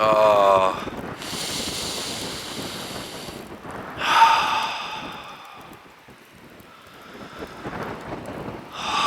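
Gusty wind blows outdoors, buffeting the microphone in loud rushing bursts that rise and fall over several seconds.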